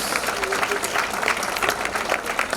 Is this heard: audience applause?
yes